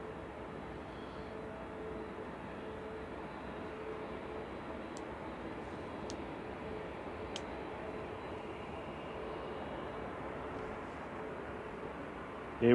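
An airplane departing Manchester Airport, a steady broad engine roar that holds at an even level throughout, heard from a distance, with faint clicks over it.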